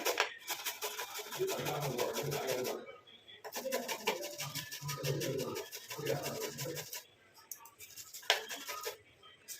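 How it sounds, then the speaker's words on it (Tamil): Tomato being grated into a paste for a face pack makes rapid, rhythmic rasping strokes in bursts of a few seconds, with short pauses and faint clinks between. "தக்காளியை வந்து நம்ம கொஞ்சமாக துருவி எடுத்துக்கலாம்"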